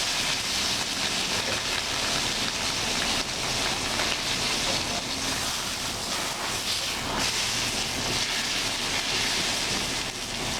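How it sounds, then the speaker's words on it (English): Filet mignon searing in a hot pan after sous vide cooking, a steady loud broadband sizzle and hiss, close and unbroken throughout with no talk. "I like to kind of sear it on all sides, so I'll even do a little sear on the outside, just a tad"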